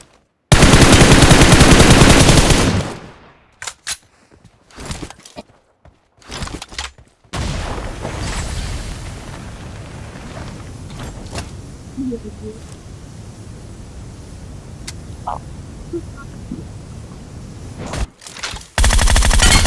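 Rapid automatic gunfire in PUBG Mobile, a loud sustained burst at the start, then scattered single shots and short bursts, followed by a noisy stretch and another burst at the end, with little talk.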